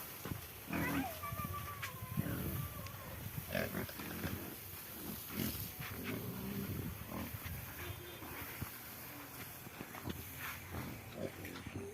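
A pig being bathed gives off intermittent grunts and squeals over splashing water and scrubbing, with people's voices mixed in.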